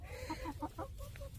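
White and black-and-white backyard chickens cluck close by in a rapid run of short, chattering clucks over a low steady hum.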